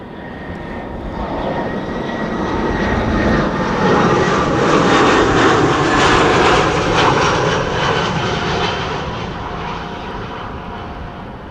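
A loud airliner passes close while arriving at Amsterdam Schiphol Airport in windy weather, its engine roar swelling to a peak midway and then slowly fading, with no speech.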